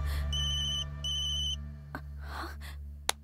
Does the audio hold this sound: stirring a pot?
no